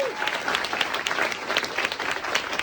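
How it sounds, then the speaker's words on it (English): An audience in San Francisco applauding Congresswoman Katie Porter at Manny's, a steady wash of many hands clapping at moderate volume from a crowded room, with faint voices mixed in. "Let's give her a round of applause"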